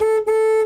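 Horn of a Ford GT40 race car, a steady, loud, buzzy tone sounding twice in quick succession with a brief dip between, alone and close.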